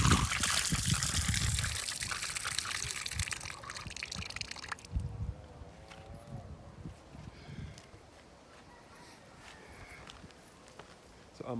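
Water runs steadily from a tap for hand washing outdoors at a parish church in Barbados, a close, loud trickle that fades after a few seconds, followed by quieter background noise and faint footsteps.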